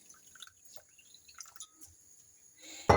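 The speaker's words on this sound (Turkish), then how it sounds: "iyice suyu berraklaşıncaya kadar yıkıyorum" Rice and bulgur being washed in water in a kitchen: faint drips and small trickles, then a brief louder splash of water at the end.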